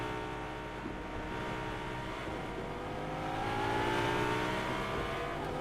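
Race cars on the Bahrain Grand Prix straight in a racing video game, a continuous engine drone with rising and shifting revs that swells slightly louder partway through, heard alone without talk.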